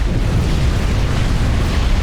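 A dense, continuous roar of unit explosions rumbles through a Supreme Commander: Forged Alliance 8v8 custom battle, heavy and loud in the low end, with no let-up across the stretch.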